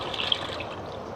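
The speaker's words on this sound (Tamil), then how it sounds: "அந்த புளி கரைசலை வச்சுருந்த பாத்திரத்துலேயே இன்னும் கொஞ்சம் தண்ணியை விட்டு கழுவி திரும்ப அதிலே ஊற்றிக்கலாம்." Tamarind rinse water poured from a vessel into a pot of jilebi fish curry, a steady close trickle and splash of liquid with no talking.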